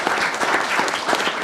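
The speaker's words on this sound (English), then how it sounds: "let's give a round of applause to all of our panelists right now." An audience applauding panelists at a panel event: dense, continuous clapping from many hands, loud and close, with no voices over it.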